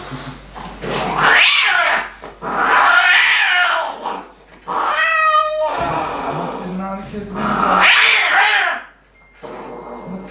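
A cat growls and yowls up close in drawn-out bursts while a person talks nearby.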